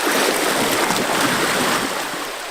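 A person slips into a river along the Gibb River Road, a dense continuous wash of splashing and churning water, loud and close, easing slightly toward the end.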